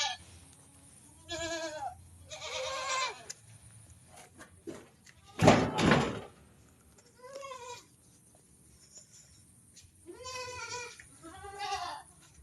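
A newborn goat kid bleats in a series of wavering calls, close and fairly loud, separated by quiet gaps, with a sharp knock or slam midway and faint footsteps around.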